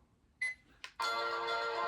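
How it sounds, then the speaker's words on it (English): A digital alarm clock's beep alarm sounds as a short electronic tone, a brief blip, then a sustained bright buzzing beep, close and loud with no talk. "Or just a beep."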